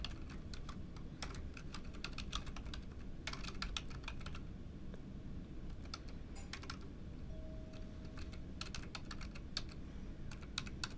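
Fingers tap a username into a computer keyboard in quick irregular bursts of clicking keys, close and fairly quiet over a low background hum, with short pauses between runs.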